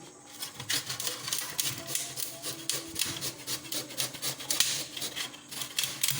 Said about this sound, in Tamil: இதில் வச்சு இப்போ நைஸாக செத்திக்குவோம்